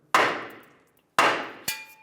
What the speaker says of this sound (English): I'm just gonna take a hammer,